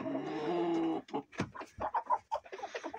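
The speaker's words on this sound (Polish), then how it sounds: "Jeszcze koguty ganiają." Chickens and roosters in a snowy winter coop give a drawn-out call, then a run of short, close clucks and squawks with scuffling, and no one speaks.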